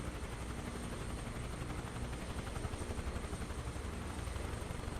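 A Chinook helicopter in Microsoft Flight Simulator 2024 gives off a steady, even rotor and engine drone that holds level from start to end.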